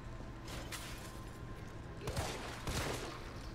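Gunfire aimed at a red explosive barrel in the Resident Evil 3 Remake game: a couple of sharp shots and crashing bursts near the end, over a steady low background hum.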